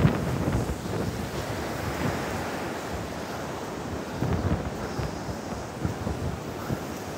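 Strong, steady wind from Typhoon Maysak roars and buffets the microphone at a beach, with rushing surf churning underneath throughout, loud and close.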